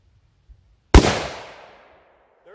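A single sharp, loud rifle shot from a .300 Winchester Magnum firing a Barnes 130 grain TTSX load cracks after near silence, then a long reverberant echo fades across the range.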